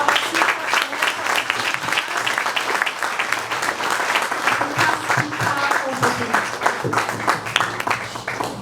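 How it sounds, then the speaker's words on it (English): Audience at a book launch breaks into sustained, dense applause welcoming a speaker to the stage, steady clapping throughout with a crowd murmur underneath. "with a round of applause, and with joy on our faces and in our hearts, let us bring our speaker over here"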